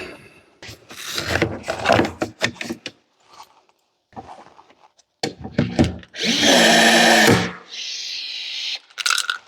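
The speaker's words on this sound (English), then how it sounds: "I'm gonna blow those rivets out first and get that panel out of there" Power drill boring out rivets on a Can-Am X3 side panel, heard as a few short loud whirring bursts, the longest lasting about a second, with clattering handling noises and quiet gaps between them.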